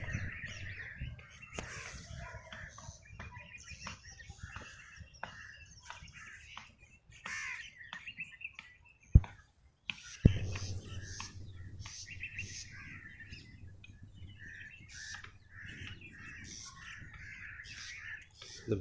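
Birds call in trees on a lawn at morning time, with scattered chirps, tweets and some crow-like caws, moderately distant, alongside a couple of sharp knocks and low hum.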